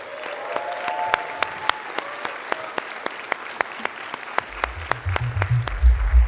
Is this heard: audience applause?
yes